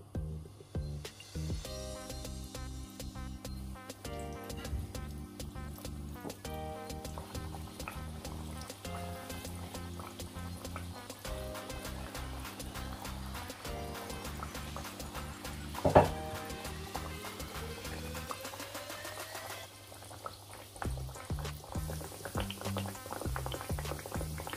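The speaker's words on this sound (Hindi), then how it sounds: "अब मैं इनको फ्राई करूंगी।" Sweet tikiyan made from dough fry in oil over a low flame, giving a continuous bubbling sizzle that stays steady and close throughout, with a brief clatter partway through and no talking.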